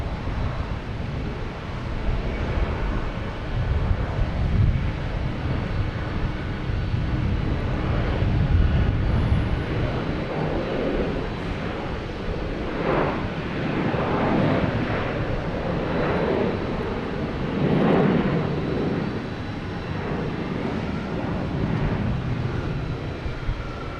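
An MD-11 airliner at Boston Logan Airport rumbles with a broad, steady jet roar that swells and fades slightly, heard from a distance against wind noise.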